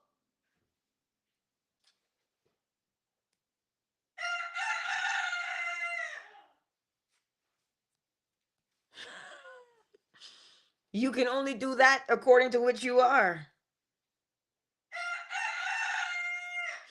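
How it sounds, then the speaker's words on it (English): A rooster crows several times, loud and close, in separate bursts separated by silence, with a brief spoken line between the calls. "Roosters crow."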